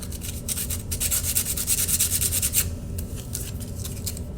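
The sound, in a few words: sanding sheet metal corners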